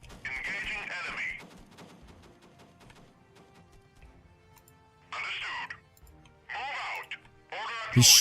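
Vehicles firing guns in the video game Homewars, heard as several short, harsh bursts of rapid gunfire separated by quieter gaps filled with faint ticking game sounds.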